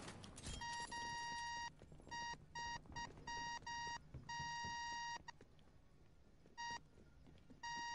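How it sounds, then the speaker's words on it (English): An enemy sentry turret in a video game beeps insistently, rapid electronic tones repeating in clusters with short gaps, quiet but piercing and heard alone. "Stop the beeping, please."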